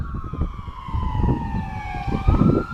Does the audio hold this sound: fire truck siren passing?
yes